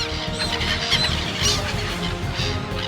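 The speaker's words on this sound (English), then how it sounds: "I don't think I've ever seen this many seagulls in one spot, ever" A large flock of seagulls is fed by people in Kunming, China, filling the air with many overlapping squawking cries, close and loud, without pause.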